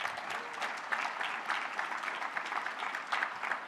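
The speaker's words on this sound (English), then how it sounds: "Give a hand clap for that" Audience at a mayor's business luncheon giving a round of applause, a moderate, even patter of many hands clapping at once, fairly distant and sustained.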